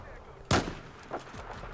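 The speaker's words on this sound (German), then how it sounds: "dann gehen wir erstmal den ersten Schuss ab hier" A single loud, sharp gunshot from a weapon in the video game Battlefield 4 cracks out close by, followed by a fainter echoing thud a moment later.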